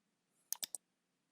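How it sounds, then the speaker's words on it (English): Computer mouse clicks: three quick, crisp clicks in close succession, near and clear against a quiet background, with no speech. "just right click on it and then click disconnect"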